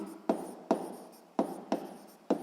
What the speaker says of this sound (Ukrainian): Записуємо тоді.